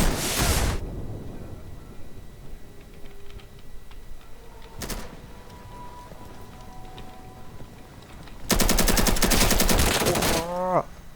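Automatic gunfire in a first-person shooter game, with a brief opening burst, a single short shot midway and then a loud sustained rapid-fire burst near the end, over quiet background game ambience.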